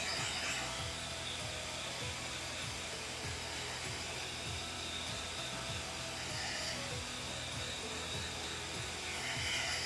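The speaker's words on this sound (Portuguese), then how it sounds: "soprador." A blower runs steadily to dry freshly brushed varnish on an MDF aroma diffuser holder, a loud continuous whooshing roar with a high airy hiss that holds for the full length without pause.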